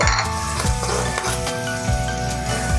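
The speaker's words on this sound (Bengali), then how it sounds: "রসুনটা দিয়ে আমি একটুখানি ভেজে নেব ভালো করে" Garlic frying in a pan at home while making lalmohan vetki fish curry, a steady close sizzle with repeated stirring scrapes and light clinks of utensil against metal throughout, no voices.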